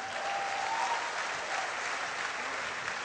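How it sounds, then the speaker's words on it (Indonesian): Audience at a K-Link business opportunity presentation breaks into steady, dense applause that fills the room evenly for the whole stretch, with no voices over it. "tepuk tangan untuk mereka semua"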